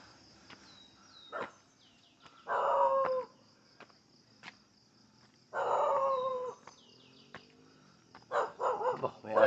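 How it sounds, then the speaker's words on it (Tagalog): A dog barks in several loud bursts outdoors on a hillside trail, with quieter calls and chirping in between and no talk. "May aso."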